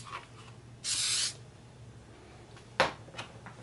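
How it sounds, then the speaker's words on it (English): Zip Kicker CA accelerator sprayed onto a glued finishing strip on stormtrooper armor gives one short close hiss of about half a second, followed by a few light handling clicks. "I'm just going to hit it with some zip kicker"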